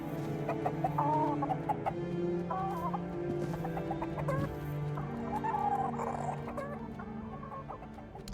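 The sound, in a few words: chicken clucking in video game Tainted Grail: The Fall of Avalon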